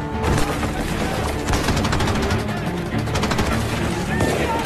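Dense battle gunfire between German and Soviet soldiers near Moscow, rapid overlapping shots and bursts forming a loud continuous rattle, with a voice talking over the top.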